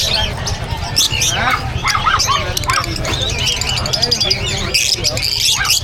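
Many caged birds chirp, squawk and coo together at the Bocaue pet market in a dense, continuous clamor, with people talking throughout over the busy crowd noise.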